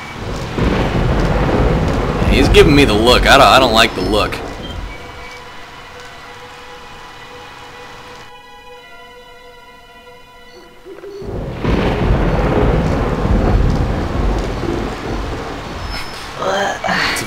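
Heavy rain and rolling thunder in the video game Conker's Bad Fur Day pound loudly, drop away to a quiet musical passage midway, then return just as loud, with someone talking over the storm.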